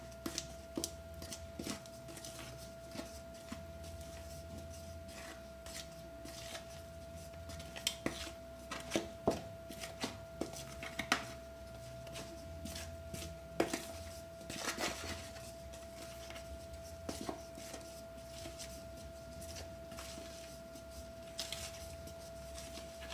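Banana paste is mixed with a wooden spoon in a bowl, producing faint, irregular soft scrapes and light taps over a steady background hum.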